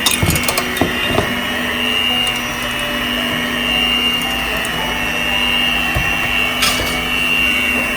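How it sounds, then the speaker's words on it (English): Brownie batter being mixed after an egg is added, a loud steady electric mixer whir running throughout, with a few clinks of the bowl near the start. "Now we'll add 1 more egg. Keep mixing it."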